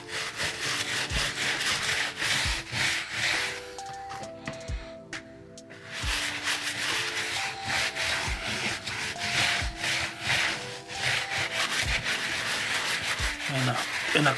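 Brush scrubbing sneakers lathered with Angelus Easy Cleaner, rapid rhythmic scratchy strokes close by, pausing briefly midway before the scrubbing resumes.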